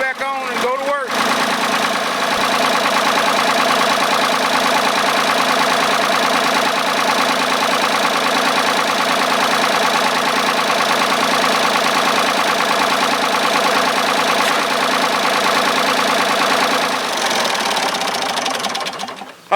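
A Ford 3000 tractor with a newly replaced radiator idles steadily and loud throughout, its diesel knock even and continuous after a brief start at the beginning.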